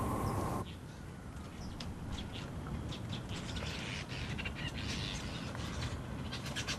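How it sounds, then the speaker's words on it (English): Birds call on a golf course during a women's professional tournament in South Africa, scattered chirps and caws, some distant, over a constant hiss of outdoor background. "So many different types of birds."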